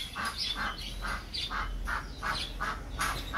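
Hens and chicks just let out of their coop give a steady series of regular, close squawking calls, roughly eight of them, with no voices present.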